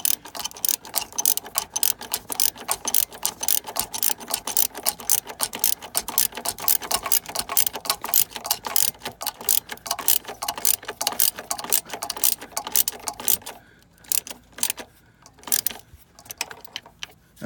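A hand ratchet clicks in rapid bursts while tightening a tail light on a Can-Am Spyder ST Limited, loud, close and rhythmic, stopping briefly before a few final clicks; no talking.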